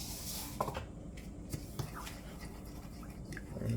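Melted butter, coconut milk and brown sugar are hand-mixed into a custardy topping for Jamaican sweet potato pudding, giving faint, continuous scratchy stirring and scraping with a few soft taps in a quiet kitchen.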